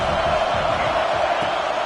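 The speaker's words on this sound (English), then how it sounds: "This crowd bringing the energy and noise early." A football stadium crowd roars in a steady, loud wash of cheering and shouting that holds throughout, with no break or single standout voice.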